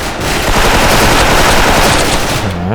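M4A1 rifle in the Special Force online shooter fires a continuous loud burst of rapid automatic fire, dense and close throughout, ending just as the shooting stops.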